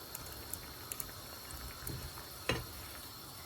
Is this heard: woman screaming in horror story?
no